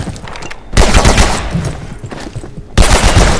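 A powerful gun in Abiotic Factor fires in loud bursts, with rapid shots clustered near the start and again at the end over a noisy background.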